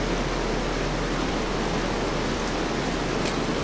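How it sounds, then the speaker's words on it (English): A waterfall in the Call of Cthulhu video game roars as a steady, dense broadband rush, loud and unbroken throughout. "Can I go into the waterfall?"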